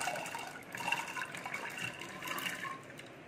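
Water poured into a pressure cooker on a lit gas stove for boiling soaked chickpeas, a steady close splashing and filling wash lasting a few seconds with no talk.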